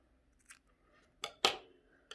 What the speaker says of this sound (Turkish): İpimi buradan şimdiden keseceğim